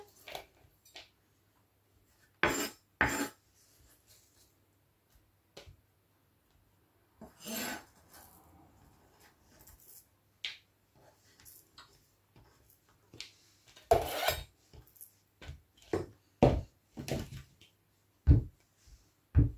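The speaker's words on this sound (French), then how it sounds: "je vais vous montrer comment on va découper donc la tomate" A knife cutting a tomato on a wooden cutting board, with sparse, quiet taps and soft slicing strokes separated by silences, later coming in quicker clusters.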